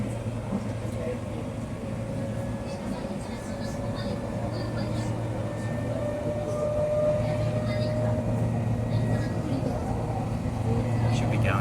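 A constant low rumble and rattle of a moving train carriage, heard from inside, with a steady hum running underneath throughout, on a trip from Nagoya to Central Japan International Airport.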